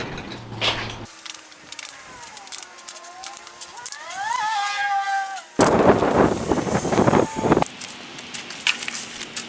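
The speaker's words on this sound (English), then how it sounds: "Now I'm going to move the oven into position." A welded metal rocket stove pizza oven is shifted into place outdoors, with clanks, knocks and scraping, ringing metallic squeals in the middle, and a louder burst of rattling and thuds near the end.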